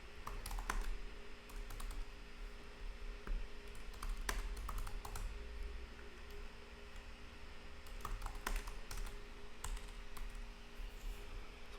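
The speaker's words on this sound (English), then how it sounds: "we can type up something here" Typing on a computer keyboard while editing website text, with bursts of fairly close key clicks separated by pauses, including a few louder taps and no speech.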